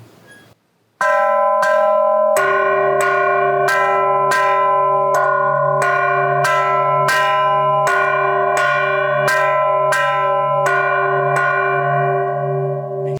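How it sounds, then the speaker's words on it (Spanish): A church bell of the Rionegro Cathedral tolls a death knell loudly and evenly, one ringing strike after another with a long resonant hum between them. "Este es el toque que se da con las campanas cuando se anuncia la muerte de un ciudadano"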